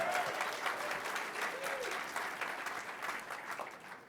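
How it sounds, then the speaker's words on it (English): Audience applause at a tech showcase during a mobile apps competition, a steady wash of many hands clapping that holds for the full four seconds, fairly loud and fading slightly toward the end, with faint voices mixed in. "I think our applause was louder."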